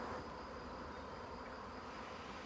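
Honey bees buzzing around a swarm, a dense continuous hum of many insects close by, steady and even throughout with no voices.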